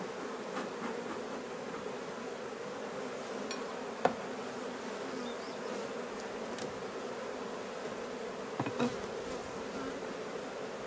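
Many honey bees hum in a soft, constant drone around an open hive during a summer honey harvest, with a few faint knocks and clicks scattered through.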